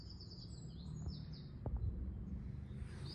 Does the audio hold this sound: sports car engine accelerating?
no